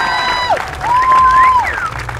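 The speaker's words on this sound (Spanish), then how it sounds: "fuerte el aplauso para él." Audience clapping and cheering at a clown show, continuous crowd applause with sliding whistle-like tones layered over it, fairly loud and close throughout.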